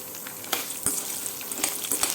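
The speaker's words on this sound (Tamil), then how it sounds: "ஒரு பத்து மிளகா வத்தல் இந்த மாதிரி நீட்டு மிளகா வத்தல் கிள்ளிட்டு இதையும் போட்டுட்டு நல்லா வறுத்துக்குவோம்" Dried long red chillies, broken by hand, fry in hot oil in a pan, giving a steady close sizzle with a few sharper crackling pops and stirring scrapes.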